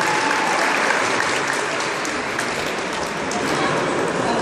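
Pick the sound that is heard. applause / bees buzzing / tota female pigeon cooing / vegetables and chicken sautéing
applause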